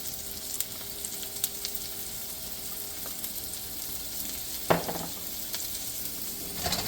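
Ginger sizzles steadily in a hot pan for Mongolian beef, a continuous soft crackling hiss with a brief louder clatter partway through and faint kitchen clinks.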